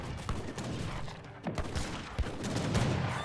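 Massed gunfire ripping into heavy cannons in an Age of Empires 3 battle, a fairly faint, dense crackle of musket volleys with a few sharper shots standing out, continuous over a few seconds without talk.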